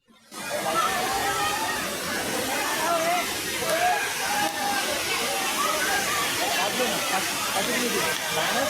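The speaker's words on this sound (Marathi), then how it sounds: "खाली पण छोटे छोटे धबधबे आहेत" Steady rushing water roars throughout from Bhivpuri waterfalls near Karjat, Maharashtra, a broad continuous wash of sound, with faint voices blended into the noise.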